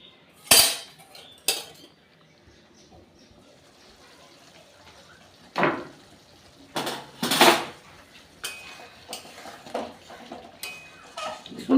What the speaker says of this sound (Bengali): এবার আমি ঢেকে রাখবো